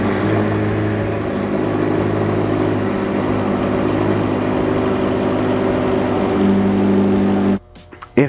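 McLaren P1 hybrid supercar engine paired with the high whistle of its electric drive: a steady, powerful drone with a sustained tonal whine over it, cutting off abruptly near the end.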